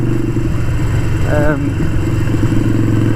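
A Harley-Davidson Sportster 883 Iron, a blacked-out 2016 model, idles with a loud, steady low rumble throughout while someone talks over it.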